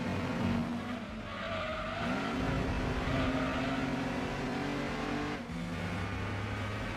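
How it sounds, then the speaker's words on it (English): Race cars in the video game Gran Turismo 2, with a dense, continuous roar of several engines revving and tires squealing, loud and close throughout without talk. "I can hear the cacophony of cars."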